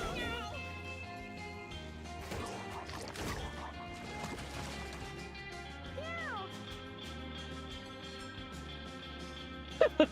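Cat meows in the video game Mewgenics, a few rising and falling cries over continuous game music and scattered hits, moderately loud.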